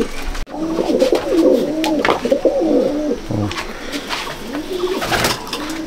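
Several pigeons coo continuously inside a pigeon loft, layered low warbling calls close and fairly loud, with a brief thump near the start and faint background chatter.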